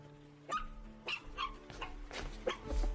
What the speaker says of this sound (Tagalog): Hala, tuta!